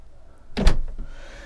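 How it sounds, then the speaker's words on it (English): Cabin doors on a Marex 330 yacht slide shut with one solid thunk and a faint follow-up click, close by in an otherwise quiet interior. "we will just close these doors"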